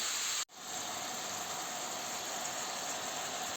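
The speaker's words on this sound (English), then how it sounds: "It's just like searing the meat basically before we stir it." Cured pork sears undisturbed in a pan, giving a steady, even hiss of sizzling that runs on without talk after a brief dropout near the start.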